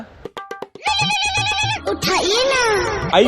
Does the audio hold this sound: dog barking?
no